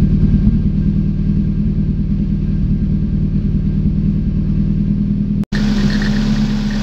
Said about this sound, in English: even right now with this dual kind of crazy cannon style exhaust, it's not my cup of tea, but you know, it's actually pretty quiet